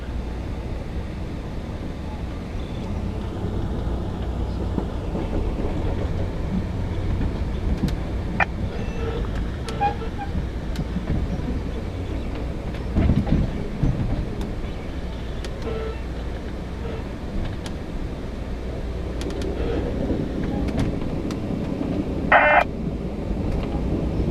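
Inside the Amtrak Empire Builder passenger train on a sunny afternoon, a steady low rumble of wheels on rails drones on continuously, with faint clicks and brief scanner-like tones now and then.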